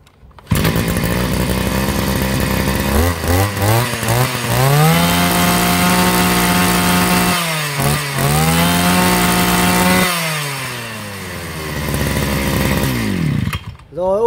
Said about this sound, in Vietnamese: Em test nổ cây S18 này.